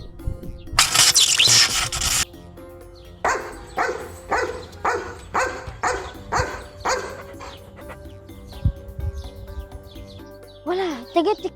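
A dog barks in a quick run of about nine evenly spaced, fairly close barks, preceded by a short burst of noise, with a brief whimper or yelp at the end, and no voices clearly heard.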